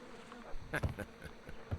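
Bees buzzing in Sherlock Holmes: Crimes and Punishments, a faint, continuous insect drone with several brief louder passes close by, heard alone without talk.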